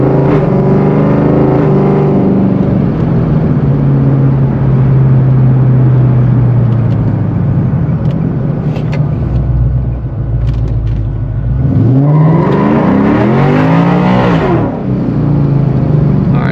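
A Coyote V8-swapped Ford Foxbody running E85 on a street drag run: a loud, close engine roar that holds steady, then revs up in a sweeping surge of acceleration near the end.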